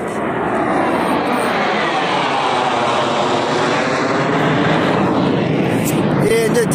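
Airplanes fly low overhead near an airport beside a solar-powered flour mill, a loud, continuous jet-engine roar that swells and sweeps across the whole stretch, with a voice briefly audible beneath it.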